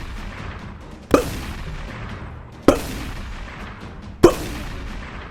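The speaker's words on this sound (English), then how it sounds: "gunshots immediately rang out from 15 feet directly above us" Three sharp gunshots ring out at even intervals of about a second and a half, each a loud crack with a short decaying tail over a low background rumble.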